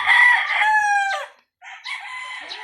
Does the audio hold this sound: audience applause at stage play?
no